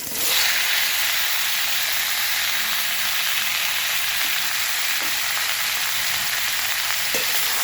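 Sliced bottle gourd drops into hot mustard oil already seasoned with panch phoron and dried and green chillies, setting off a loud, steady sizzle that hisses without a break across the whole stretch.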